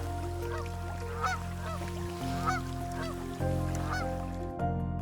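Flamingos and other birds at a lake in Morocco give repeated nasal honking calls, several in a row over a steady background hum.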